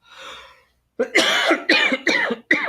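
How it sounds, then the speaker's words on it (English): A faint breathy sound, then four harsh, loud coughs in quick succession, close by. "There's that cough."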